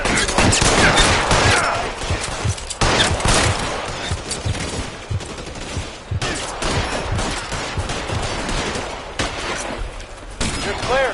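Sustained gunfire from a shootout in L.A. Noire, dense bursts and volleys of shots rattling continuously and loudly, with voices shouting under the shooting.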